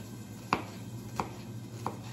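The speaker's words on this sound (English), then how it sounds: "You're so good at chopping vegetables." Vegetables for fajitas being chopped with a knife on a cutting board, three distinct sharp chops spaced evenly apart, close and clear over a low steady background hum with no voices.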